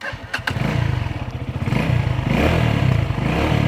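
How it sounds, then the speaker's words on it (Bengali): A Runner Bolt 165R motorcycle engine idles close by with a throaty, rapid pulsing beat, then rises into a louder, rougher rev partway through. "আপনাদের একটু বাইকের সাউন্ডটাও শোনাই,"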